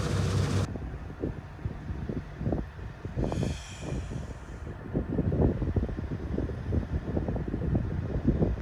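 Harvesting machines working together in a village field, a steady loud mechanical rumble with wind buffeting the microphone and irregular clattering knocks throughout.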